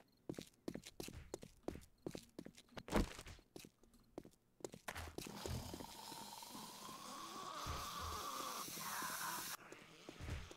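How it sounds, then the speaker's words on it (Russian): Zombies' footsteps in the survival game 7 Days to Die, a run of quick, uneven scuffing and thudding steps that grows busier and closer, later blending into a steady rustling, grinding background. "Я слышу шаги, причем такие активные."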